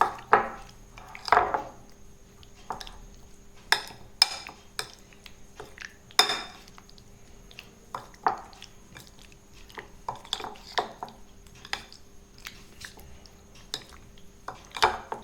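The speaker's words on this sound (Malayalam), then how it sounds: "ഈ മസാല ഈ പനീറിലേക്ക് നന്നായിട്ട് കോട്ടാവുന്നത് പോലെ നമുക്ക് മിക്സ് ചെയ്തെടുക്കാം" Masala being mixed into paneer cubes in a bowl, with repeated clinks and scrapes of a spoon against the bowl and soft squelchy stirring, in irregular bursts at close range with no talk.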